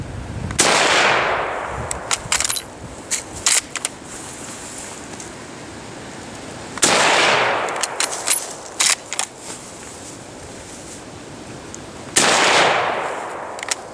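Arisaka Type 38 bolt-action rifle fired outdoors at a target, three loud sharp shots spaced several seconds apart, each with a long decaying echo, separated by quieter clicks of the bolt being worked.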